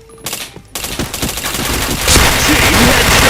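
Gunfire in the shooter game Point Blank, scoring headshots: a sharp shot after a brief quiet, then rapid bursts of automatic fire that build into a dense, loud, continuous fusillade.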